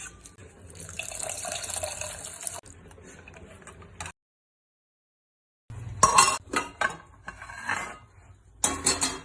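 Water is poured into spices, turmeric and asafoetida for rasam, and mixed by hand in a home kitchen, giving close splashing and sloshing with light clinks, broken by a brief silent gap before busier wet handling resumes.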